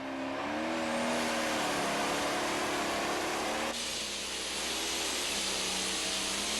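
A pro stock pulling tractor roars at full revs during a tractor pull at Henry, Illinois, a loud, sustained engine howl that shifts pitch partway through as it works down the track.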